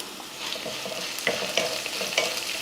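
Sliced onions with a little turmeric sizzle and crackle steadily in a hot pan while a utensil stirs them, with a few sharper scrapes and clacks; no one speaks.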